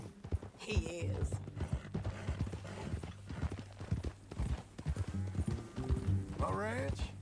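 Horse hooves clip-clop at a walking pace in Red Dead Redemption 2, steady rhythmic steps close by under a conversation between riders, with a brief whinny.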